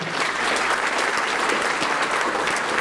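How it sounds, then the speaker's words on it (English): A roomful of people applaud the board at an annual awards breakfast, thick, sustained clapping at an even, loud level throughout with no voices rising above it. "Big round of applause for our board."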